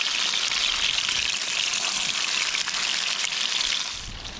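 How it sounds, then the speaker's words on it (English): Fish frying in a pan outdoors near a waterfall, a steady dense hiss and crackle of hot oil, close and loud, with no one speaking over it. "the fish is frying up"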